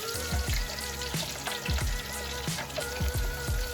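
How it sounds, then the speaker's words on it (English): Crispy vegan catfish pieces sizzling in a fryer, a continuous crackling hiss with rhythmic bubbling pops, close up and with no talking. "we're getting ready to place these in the fryer"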